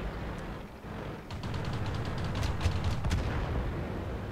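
A pom-pom autocannon fires during a World of Tanks battle, a muffled run of rapid booming shots over a constant rumbling game background, with no voices.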